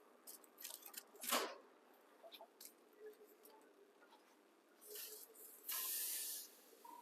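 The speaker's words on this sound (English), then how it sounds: "You can hear that sizzle where I was soaking the corn in the water" Water-soaked corn wrapped in foil sizzles on a grill in a string of sharp hissing bursts and small ticks, ending in a longer, louder steady hiss.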